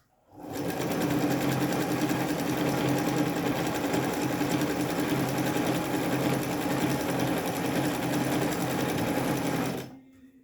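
A Singer Felicita sewing machine stitching continuously for about nine seconds, a close, steady, fast mechanical whir and rattle that starts and stops abruptly, no talking.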